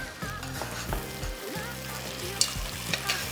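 Ghee roast masala being stirred in a hot pan, a strong sizzle with scraping and a couple of sharp clinks, over low background music.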